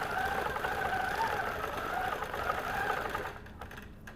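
A sewing machine stitches with soft, low-lint thread, a fast steady mechanical whirring run up close that stops near the end, leaving a few faint clicks.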